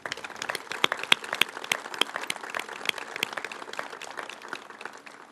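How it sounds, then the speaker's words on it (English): Scattered audience applause at a groundbreaking ceremony for a family justice center in Nashville, a moderate, steady patter of claps with sharp individual hand strikes standing out, lasting several seconds. "really deserves a round of applause"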